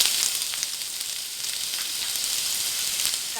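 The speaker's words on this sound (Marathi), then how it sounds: "तेल गरम झालं आपलं, आणि मी आता कांदा घालून घेणार आहे" Onions sizzle steadily in hot oil in a pan over medium heat, a dense, continuous crackling hiss at fairly even loudness with no pauses.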